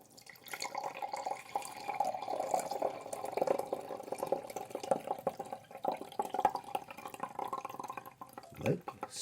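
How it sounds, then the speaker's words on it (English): Whiskey drink being filtered and poured into a glass, a quiet steady trickle of liquid running for several seconds, faint and close, ending with a brief gurgle. "now we're going to filter this out into a glass"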